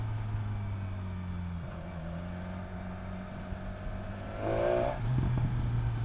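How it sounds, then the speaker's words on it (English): A 2019 BMW S1000XR motorcycle with its stock exhaust, heard while riding on the road: a steady engine drone with wind rush climbs into a louder, rising rev near the end. "this is stock exhaust, and this already sounds very good"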